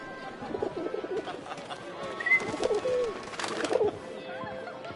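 Pigeons coo repeatedly in soft, throaty rolling calls, moderately close against a faint hum of background noise, with no clear speech over them.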